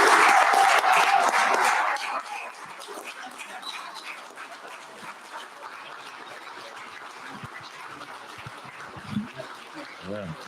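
Applause for Dr. Finney at a university board of supervisors meeting starts loud and dense, then thins after about two seconds into scattered claps and murmuring voices.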